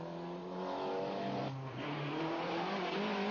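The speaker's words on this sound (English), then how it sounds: "Leading the race. And all of his times well in front of Renaud Verreijdt and Marc Duez. Toyota Celica GT4" A Toyota Celica GT4 rally car at the 1991 Rallye du Condroz is heard close and loud, its engine holding a steady high-revving roar with a brief dip and shift midway.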